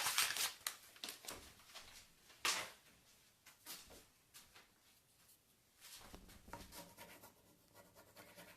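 Scissors cut up a Prima Redesign decor transfer sheet, giving quiet, close scratchy snips and rustles in an irregular rhythm, with no talking.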